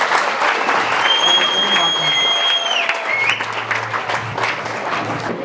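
An audience claps continuously through a speech event by an Agniveer soldier, a dense, steady wash of applause with a few tonal whistles or feedback squeals rising over it.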